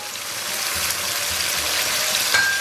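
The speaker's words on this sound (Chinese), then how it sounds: "给锅里边稍微来点辣椒酱，给它煸炒出红油" Chili sauce and soy sauce stir-frying in a hot wok, a steady close sizzle with faint scraping throughout, and a short bright clink near the end.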